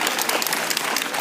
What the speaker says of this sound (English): Give me a round of applause, y'all.